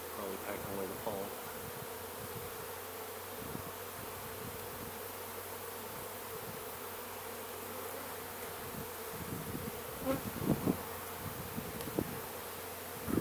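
Honeybees buzzing on a hive frame, a steady close drone of many bees with occasional louder passes near the microphone and faint speech in the background.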